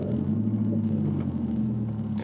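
Renault Clio 4 GT engine start sound piped through the car's interior speakers: a steady, loud low rumble with a sustained droning hum, running unbroken and without voices.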